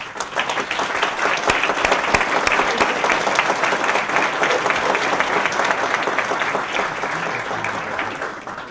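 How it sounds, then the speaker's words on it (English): Steady audience applause fills a talk event about Islam, dense clapping at even loudness for about nine seconds, fairly close and without speech. "And Dalia, please stand up and take a little round of applause."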